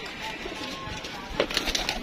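Pigeon cooing near a keeper showing his birds, with soft low coos amid a busy background and a brief louder flurry of bird calls toward the end.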